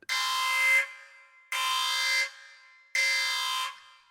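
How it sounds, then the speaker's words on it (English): A podcast timer goes off with three loud, identical buzzing electronic blasts, each nearly a second long and evenly spaced, sounding alone with no talk over it. "impressively there's our timer"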